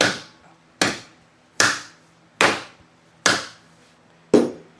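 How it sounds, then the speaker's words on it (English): A hammer beats on a car distributor during V8 engine work on a Pontiac Firebird, six sharp metallic blows spaced about a second apart, each ringing briefly before fading, with quiet between strikes. "I'm gonna beat the distributor out with a hammer, and then the intake will come off."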